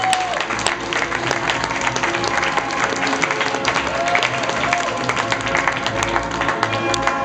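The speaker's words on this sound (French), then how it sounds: "Julie, sous vos applaudissements, s'il vous plaît." Audience applause greets Julie at a live introduction, with dense, steady clapping from a crowd filling the whole stretch at an even, sustained level, and a few scattered voices and cheers mixed in.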